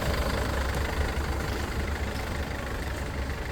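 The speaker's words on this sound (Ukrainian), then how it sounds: "Двигунчик працює ідеально" A 2016 Mercedes-Benz Sprinter flatbed van engine idles continuously with a steady, rumbling, even low drone and no voices.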